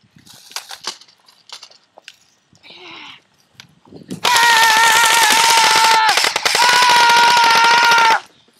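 Airsoft M4 rifles fire in long rapid bursts at close range, two sustained strings of shots after a few scattered pops, with a high whirring gearbox whine running through the automatic fire.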